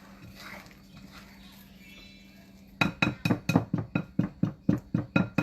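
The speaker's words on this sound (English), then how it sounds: "scrape the sides" A spatula scrapes the sides of a bowl of pumpkin muffin batter, making a quick, even run of about ten close, sharp clinks and knocks against the bowl after a few seconds of quiet room sound.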